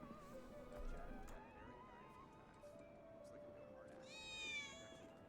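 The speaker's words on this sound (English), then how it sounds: "And there's our first cat right there." A cat meows briefly in the video game Final Fantasy 7 Remake, a short, high, wavering call near the end that rises over a quiet backdrop of game ambience and faint music.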